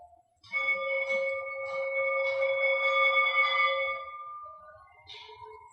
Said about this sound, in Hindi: अभी जो बजी थी वो घंटी थी